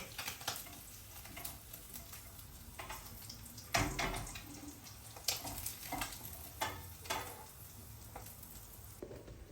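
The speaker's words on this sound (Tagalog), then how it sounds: "Yung piniprito ko" Tamban fish sizzles steadily in hot oil, with occasional clinks and scrapes of a utensil stirring the pan.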